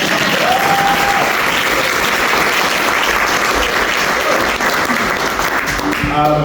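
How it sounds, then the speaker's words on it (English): Loud, dense applause from a large audience closing a talk session, steady throughout with a brief voice or tone near the start and a few sharper sounds at the end. "Another round of applause."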